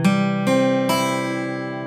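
A guitar chord strummed with a pick starting from the 5th string, struck three times in quick succession, close and loud, with the last strum left to ring out.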